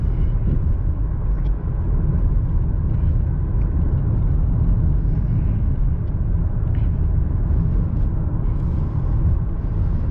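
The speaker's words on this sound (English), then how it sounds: "The V6 also sounds really nice." A 2007 Toyota Camry SE V6 is driven at night, its engine a steady low drone mixed with road and cabin rumble, constant and moderately loud with no talking.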